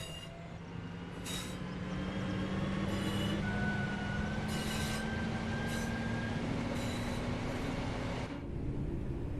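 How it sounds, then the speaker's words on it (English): A train in Train Sim World 4 rumbling and slowing to a stop at a station, with a rising squeal of brakes and intermittent bursts of air hiss, steady and close, no voices. "Apply a small amount of brake to gently bring the train to a stop at the next station."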